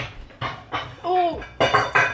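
Ceramic dishes clatter in short, separate bursts as a bowl is hunted for and handled among them, close and fairly quiet, with a brief voice in between.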